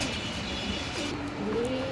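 A red-eyed pigeon gives a soft low coo close by, a brief rolling call over a steady background hiss.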